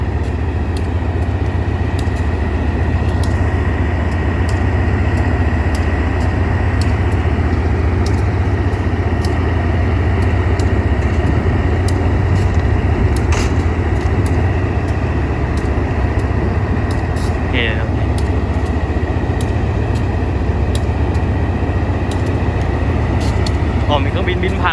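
A GEA diesel locomotive hauling a freight train idles at a station with a heavy, constant low rumble, steady and close, with a faint hiss of air pressure building over it.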